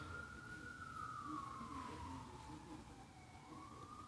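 A siren sound effect sounds as one continuous wailing tone that glides slowly down and rises again, fairly faint over a steady low rumble, with no speech.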